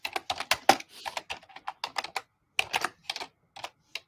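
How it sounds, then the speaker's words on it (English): Fingers type on a computer keyboard in a run of quick, irregular clicks and clatters, close and fairly quiet, with short pauses between bursts of keystrokes. "Typing."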